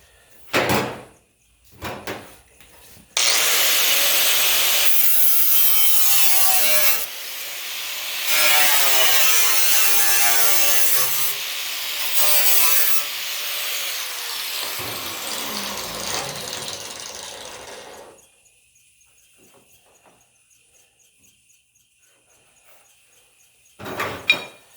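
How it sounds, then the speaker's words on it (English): A thin sheet metal patch panel is cut with a power tool, a loud, close, whining grind lasting about fifteen seconds with shifting pitch, bracketed by a few short knocks and near silence. "So all I'm going to do is going to cut so much over here so I can get this lay down right on this corner"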